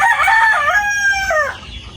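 A gamecock crows at a game farm, one long harmonic call that rises, holds steady and then drops away at the end, loud and close with no voices over it.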